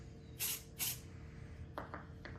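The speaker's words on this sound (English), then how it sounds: "working with spray paint" Two short, loud hissing bursts of spray paint being applied lightly to R2-D2 parts, followed by three fainter, briefer sprays close by.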